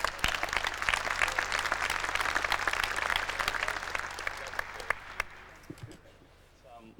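Applause from about a thousand people at a training session for the Sydney 2000 Olympics, a dense, loud clatter of hands that gradually thins and fades to scattered claps near the end.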